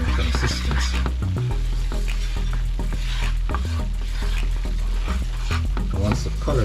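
Diwali parsad mixture is stirred as it cooks in a pan, giving rhythmic scraping strokes over a sizzle, close and repeated throughout.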